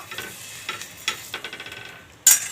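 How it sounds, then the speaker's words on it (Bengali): Mustard oil going onto a flat iron griddle for patisapta: soft, close scraping and ticking strokes with a faint sizzle underneath, ending in one sharper, louder scrape. "আমি এর মধ্যে তেল দিয়ে দিচ্ছি, সর্ষের তেল"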